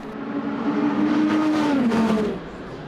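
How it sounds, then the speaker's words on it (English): A Ferrari hypercar races past at Spa during a World Endurance Championship race, its engine note rising loud and near, then dropping in pitch as it sweeps by and fades. "of Alessandro Pierguidi, and he just went straight by. That's a 51 Ferrari"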